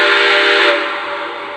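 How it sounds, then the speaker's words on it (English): A Lionel LEGACY Milwaukee Road S-3 model steam locomotive sounds one loud, steady whistle that holds and then slowly fades. "We get the whistle to confirm that it's taken the command."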